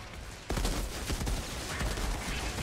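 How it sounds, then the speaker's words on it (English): Assault rifle gunfire in the shooter game Outriders, a sudden burst that continues as rapid overlapping shots for about two seconds, loud and close, with no voices. "I'm liking this assault rifle actually, pretty accurate."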